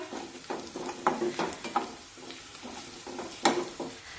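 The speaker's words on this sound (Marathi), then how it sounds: "आता हा लसूण सुद्धा हलकासा तांबूस होईपर्यंत परतून घेऊया।" Crushed garlic cloves sauté in hot oil in a pan, a soft continuous sizzle broken by repeated scraping stir strokes of a spoon, close and fairly quiet, with no talking.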